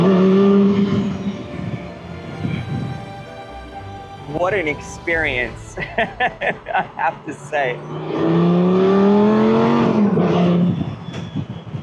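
Engine of the one-off Lamborghini Gallardo Concept S, a roofless car, droning steadily and loud close by while someone talks over it in open air; the tone climbs as he accelerates near the end.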